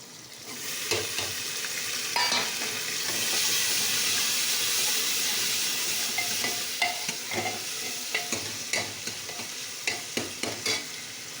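Onions and green chilies frying in a pan for a ridge gourd sabzi, a steady close sizzle and hiss punctuated by repeated scraping stirs of a spoon against the pan, with no talking.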